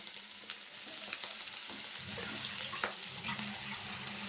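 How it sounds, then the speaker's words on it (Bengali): Gourd leaves frying in hot oil with onion in a home kitchen, a steady close sizzle with faint stirring clicks throughout. "একসাথে ভালো করে ভেজে নেব সবগুলো"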